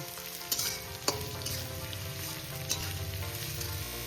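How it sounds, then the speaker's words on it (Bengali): Crushed garlic and ginger frying in hot oil in a pan for a mixed dal, giving a steady close sizzle with a few sharp crackles and spoon scrapes throughout, no voices. "এটাকে আমি কিছুক্ষণ একটু ব্রাউন কালার করে একটু ভেজে নেব"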